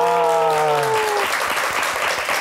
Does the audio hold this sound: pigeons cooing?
no